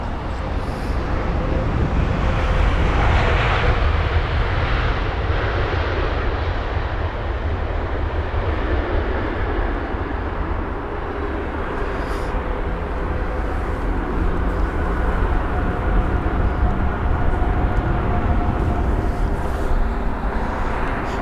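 A Boeing 787 Dreamliner from San Jose arrives at Heathrow, its engines a loud, broad continuous roar that swells and holds steady throughout, with no voices heard.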